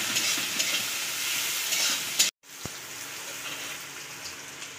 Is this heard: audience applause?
no